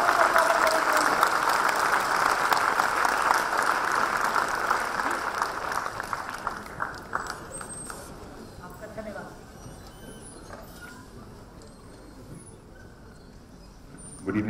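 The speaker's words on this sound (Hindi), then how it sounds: "तालियां बजाकर सभी एक साथ खड़े हो जाए।" A standing audience claps together at a wellness talk event, loud and dense at first, then tapering to scattered claps and room noise with faint voices.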